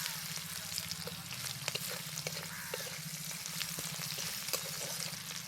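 Boiled oysters with turmeric powder frying in oil in a pan, a steady loud sizzle with faint stirring scrapes throughout, heard alone.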